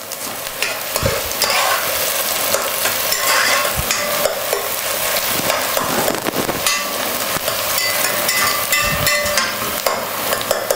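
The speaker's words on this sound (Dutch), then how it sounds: "Laat hem gewoon rustig bakken." Food sizzles and crackles steadily in a hot pan, with occasional scrapes and knocks of a utensil stirring it, close up and continuous.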